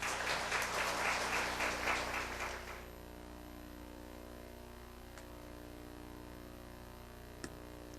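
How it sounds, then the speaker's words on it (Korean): A congregation claps to welcome a preacher at a mothers' prayer meeting in a church: a dense, steady burst of applause for about three seconds, then it stops, leaving a low room hum with a couple of faint knocks. "우리 앞으로 오실 때 큰 환영의 박수 보내주시기 바랍니다."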